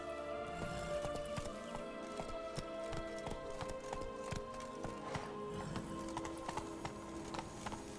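The horse Roach galloping in The Witcher 3, a rapid, even run of clip-clop hoofbeats over game music and ambient tones, moderately close and steady for the whole stretch.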